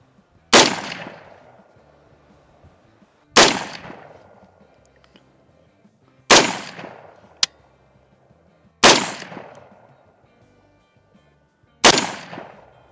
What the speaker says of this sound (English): there's our first 5 rounds